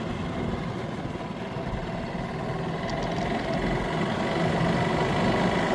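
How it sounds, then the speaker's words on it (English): An old golf cart engine idles with a steady low rumble and mild vibration, its revs swelling slightly and unevenly toward the end, heard up close with no one talking. "So I can hear the engine kind of kicking in,"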